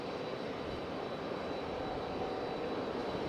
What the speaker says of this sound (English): we will have Frontier take off because I don't think anything is landing anytime soon.